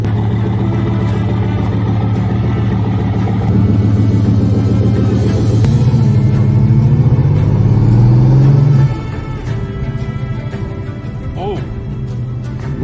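Car driving on a test drive after a coil pack was fitted and a loose connector pushed back in; a steady engine and road rumble runs throughout, rising slightly in pitch midway, then easing off, with voices talking over it.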